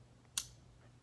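Single crisp click from a Real Steel S571 Pro folding knife as the blade snaps shut, sharp and close, alone against a quiet background hum.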